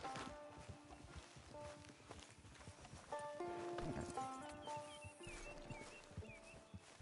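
Horse hooves clip-clop at a steady walking rhythm in the Red Dead video game, moderately close and running continuously under tonal game music and ambience.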